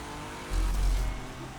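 An rFactor 2 prototype race car at Le Mans drops to first gear and powers out of a corner, its engine note surging into a loud, close acceleration for about a second against steady in-car drone.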